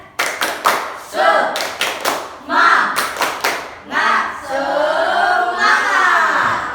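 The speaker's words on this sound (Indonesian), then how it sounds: "Tepuk semangat." Children in a classroom perform the tepuk semangat spirit clap, a run of sharp, loud, rhythmic claps broken by chanted group voices and ending in a long shouted cheer.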